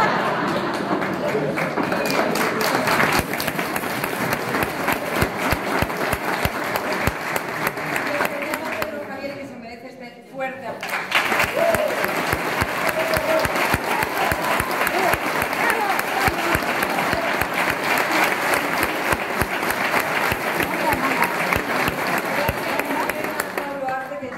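Theatre audience at a festival performance breaks into sustained, dense applause that fills the room, briefly dipping for a second before surging back even louder and continuing steadily to the end.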